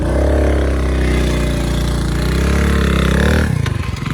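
Motorcycle ridden along a village path to a home near a river, its engine droning steadily and loud up close for most of the clip, then sputtering and dropping off near the end.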